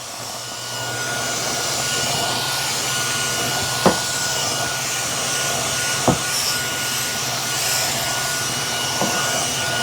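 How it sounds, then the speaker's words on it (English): A Kenmore handheld cordless vacuum cleans along a baseboard, giving a steady, loud whine and rush that holds throughout, broken only by a few brief knocks as it bumps the floor and wall. "Now let's clean up along this baseboard."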